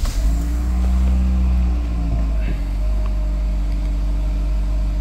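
A SsangYong Tivoli small family car with about 140,000 miles starts up, the engine catching and settling into a loud, smooth, steady idle that drones on close by, with no talking.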